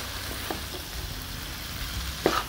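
Korean-style cut noodles stir-fried in a pan, tossed with seasoning; a steady close sizzle with faint scraping stirs and a sharper clatter near the end, no talk.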